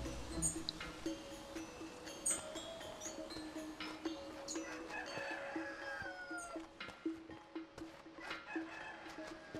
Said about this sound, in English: There's a chicken sitting right there.